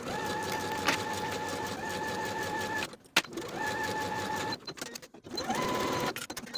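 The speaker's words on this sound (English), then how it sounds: "Then we'll sew both of the side seams and both of the shoulder seams with a 1/2 inch seam allowance" Sewing machine stitching the side and shoulder seams of a dress, a fast, close mechanical whir that runs in bursts, stopping briefly twice before starting again.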